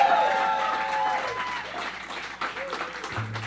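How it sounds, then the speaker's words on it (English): An audience at a live band performance applauds and cheers in a steady wash of clapping that fades, with people talking over it. "Please cheer for this wonderful room and support them."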